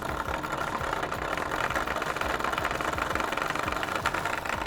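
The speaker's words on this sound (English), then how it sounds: "The 500 RPM motor, a significantly faster version of the Dozer's 100 RPM motor, makes this tractor noticeably quicker" A small 500 RPM electric motor drives a 3D printed RC tractor, giving a steady, even whir with a rattling, knocking vibration that runs close and continuous from start to finish.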